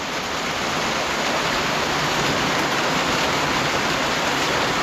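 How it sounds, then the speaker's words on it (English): Steady rain falls around a backwoods cabin under construction, a loud, even, continuous hiss with no breaks and no voices. "Still raining."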